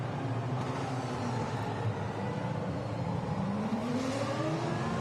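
Historic Ferrari race cars drive past during a parade at the Monaco Historic Grand Prix, their engines a continuous, loud roar with rising and falling pitch as they run close by, with no pauses between them.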